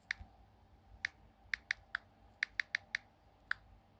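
Typing on a computer keyboard: about a dozen crisp, separate key clicks at an uneven pace, close and quiet over a low background hum, with no talking.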